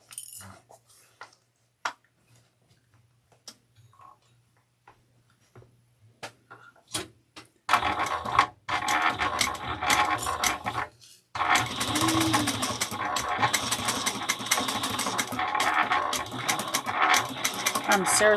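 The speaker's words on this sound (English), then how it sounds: "now we're going to sew this at 3/8 of an inch all the way around" A sewing machine stitches quilted fabric at a 3/8-inch seam after a stretch of soft ticks and clicks, running in loud, close, continuous bursts with one brief pause.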